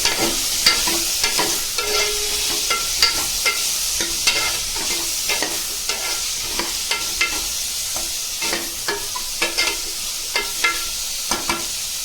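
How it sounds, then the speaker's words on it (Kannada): Vegetables frying with salt and turmeric in a pressure cooker, a constant close sizzle broken by repeated sharp scrapes and clacks of a spoon stirring at an irregular, steady pace. "ಇದನ್ನ ಚೆನ್ನಾಗಿ ಫ್ರೈ ಮಾಡಿಕೊಂಡು"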